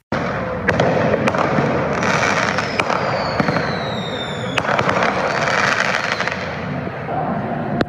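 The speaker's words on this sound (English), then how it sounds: "People were setting off fireworks, mostly mortars, at random in and around the crowd." Fireworks mortars burst in sharp, loud bangs at irregular intervals, some whistling upward, set off at random in and around a noisy outdoor crowd at a July 4th protest in Portland.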